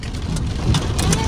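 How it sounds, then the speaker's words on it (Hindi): Hailstones falling on the ground, a dense continuous patter of small impacts with scattered louder hits, steady and fairly loud, with voices faintly present underneath. "मैंने बहुत साल बाद ओले गिरते देखा है।"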